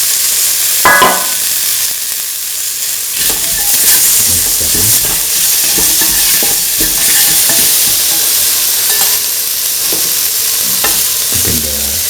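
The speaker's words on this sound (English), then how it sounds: "Now put in the tomato pieces." Tomato pieces are added and stirred into a frying mixture for a kidney bean and coconut milk vermicelli pasta. A loud continuous sizzle runs throughout, with scraping and stirring noises from a utensil in the pan.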